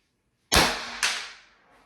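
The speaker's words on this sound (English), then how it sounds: "2 shots with this barrel, and then I'll do the next 2 shots with the extended one" A Beeman BP.50 air pistol with its stock barrel fires one sharp, loud crack up close, followed half a second later by a second sharp report as the sound rings out and fades.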